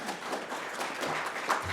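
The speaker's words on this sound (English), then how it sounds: "can we please give Isaac a huge, warm round of applause" Brief, fairly faint applause from a meetup audience welcoming a speaker, a steady wash of many hands clapping with no talk over it.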